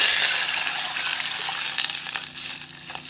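Vegetable broth poured into a hot, sizzling pan, a steady bright hiss and gush of liquid that gradually softens into bubbling over about three seconds.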